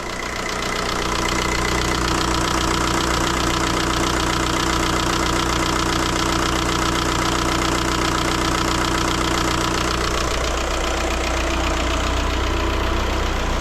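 A Seat car engine idles steadily and loudly nearby just after starting, a constant low rumble with a faint rhythmic knock, shifting slightly in tone near the end.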